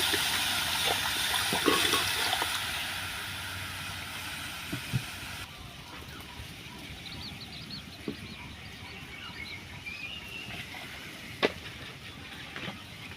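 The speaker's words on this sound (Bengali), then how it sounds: "কড়ার মধ্যে জল দিয়ে দিচ্ছি" Water pours into a kadai on the stove as a syrup base for rasgulla, a steady rushing stream that is loud at first, then quieter and more even, with a few small clinks.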